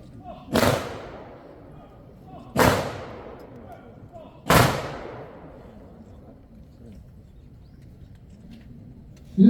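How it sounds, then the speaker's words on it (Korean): An honor guard fires three loud rifle salute volleys at a memorial ceremony at Seoul National Cemetery. Each volley is a single sharp crack, about two seconds apart, and each dies away in a short echoing tail with quiet in between. "의장대 조총 발사!"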